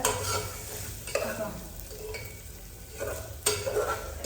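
Ginger garlic paste frying in hot oil while being stirred, a steady close sizzle broken by several sharp scrapes of a spoon against the pan, with no talking.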